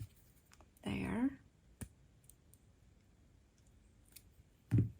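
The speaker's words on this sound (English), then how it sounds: "it's a little long, so I'm going to trim that" Cutters trim jewelry wire while a square stone is wire wrapped, giving a single sharp snip in a quiet room, with soft speech just before and after.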